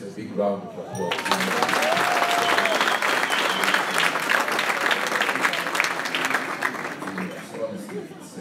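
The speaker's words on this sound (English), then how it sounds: "That's a big round of applause" Loud, sustained clapping from the audience at a Thanksgiving dinner awards ceremony erupts after a brief spoken moment and carries on steadily, with crowd voices mixed into the applause.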